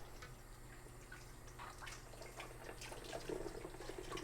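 Tap water runs over a garlic press to rinse it, a faint steady splash and patter close by with no voices.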